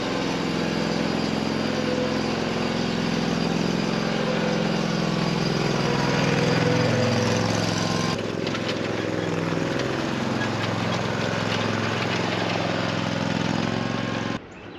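A lawn mower engine runs steadily and loud throughout, a constant droning hum that shifts slightly in tone midway, heard alone before cutting off at the end; the mower is being readied for pasture work.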